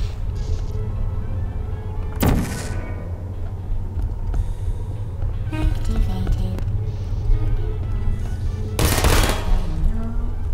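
Turrets in Portal open fire in short rattling bursts, two sharp loud volleys standing out over a low mechanical hum, with quieter crackling between them.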